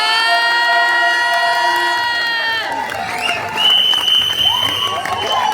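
Guests at a birthday party break into applause and cheering, a busy crowd roar of clapping and shouts that follows a sustained, held tone and fills the rest of the moment.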